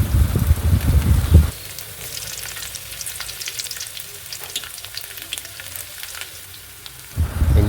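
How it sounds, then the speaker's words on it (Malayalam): Ginger and garlic crackle and sizzle steadily in hot oil with mustard seeds, a dense continuous frying hiss, louder and busier at the start and end when stirred. "കുറച്ച് ഇഞ്ചി കുറച്ച് വെളുത്തുള്ളി അതിനകത്തോട്ടിട്ട് നന്നായിട്ട് മൂപ്പിക്കുക"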